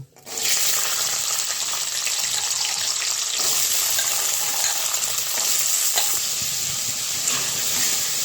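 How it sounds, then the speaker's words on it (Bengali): Flat bean seeds crackle and sizzle in hot oil with a loud, steady hiss, broken by occasional stirring scrapes. "তেলটা গরম হয়ে গেছে, সিম বিচিগুলো ছেড়ে দেব।"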